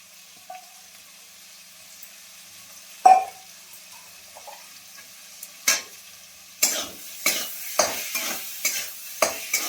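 Onions tipped into a pot of chicken soup: after a few quiet knocks, a clatter of pieces lands, then a run of sharp scraping stirs and hissing sizzles repeating at close range.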